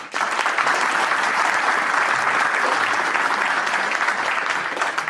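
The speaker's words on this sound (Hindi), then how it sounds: "इसके लिए अपने आप के लिए जोरदार ताली बजा दीजिए" A large seminar audience at a business development event breaks into loud, continuous applause, close and full, a dense wash of clapping with no pauses.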